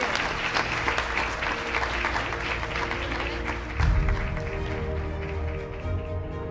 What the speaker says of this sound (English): if you'll join me again in giving him a big round of applause